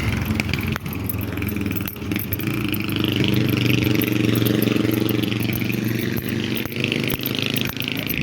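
A motorcycle engine runs steadily nearby, a loud rumbling drone with occasional clicks and a slight rise in revs midway.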